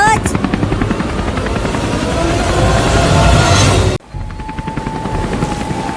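A loud helicopter rotor chops steadily at close range, cuts off abruptly, then returns with a whine rising above it.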